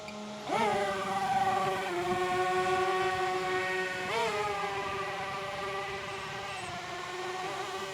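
Electric motors of an E-flite X-vert RC aircraft in multi-rotor mode throttling up into a loud, steady tonal whine that rises in pitch with each throttle push and then holds, heard close with no talking.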